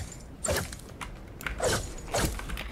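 Three sharp, crunchy video game pickaxe impact strikes spaced about half a second apart, each with a short metallic ring, close and moderately loud.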